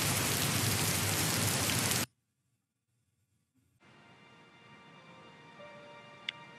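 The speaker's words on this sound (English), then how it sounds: "Oh, it's raining again." Simulated rain in a game terrain engine test: dense, loud hiss for two seconds, then near silence, then a softer, steady patter of rain returning with a brief click near the end.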